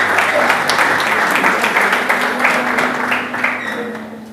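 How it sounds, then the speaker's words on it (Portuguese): Church congregation clapping loudly and steadily for several seconds, a dense close applause that tapers off slightly at the end, with a faint voice beneath. "Os irmãos podem tomar assento aplaudindo bem forte ao Senhor"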